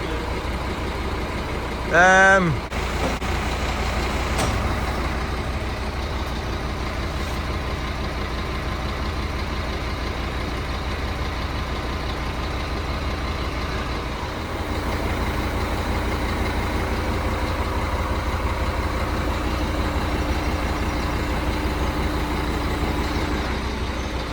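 Crane truck engine idling steadily nearby with a constant low diesel rumble for the whole stretch, a brief air-brake hiss and squeal near the start, and faint voices under it.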